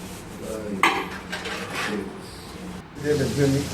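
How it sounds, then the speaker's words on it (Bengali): Metal pots, pans and utensils clank and scrape while being scrubbed and washed at home during cooking, in short irregular bursts of clatter and rubbing, with a little talk nearby. "সেই ফাঁকে আমি কটা বাসন ছিল মেজে নিচ্ছি"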